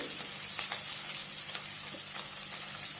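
Green chili dropped into chicken gravy frying in a pan, giving a steady, dense sizzle with faint crackles and pops throughout, close and fairly loud, no voices.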